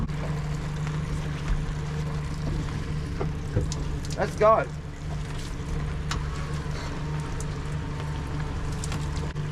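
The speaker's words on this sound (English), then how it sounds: "The engine's running sweet." A lobster fishing boat's engine hums steadily and low throughout, on calm evening water at sea, with a brief voice speaking midway.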